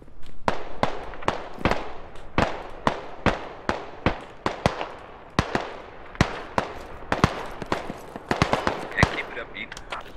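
Gunfire in the Squad military shooter, dozens of sharp, close single shots and short bursts cracking at an irregular rhythm, some clustered rapidly together, ringing out with little else beneath.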